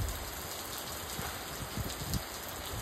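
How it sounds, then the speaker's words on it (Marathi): Steady rain pours down beside a swollen river in the monsoon, a dense, even patter on surfaces filling the whole clip with no voices. "पाऊस पडायला लागलेला आहे"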